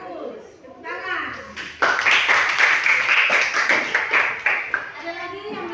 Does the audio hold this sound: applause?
yes